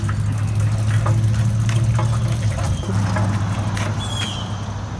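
A pressure washer's small gasoline engine runs steadily nearby, a rough, loud mechanical drone with slight shifts in pitch and intermittent knocking.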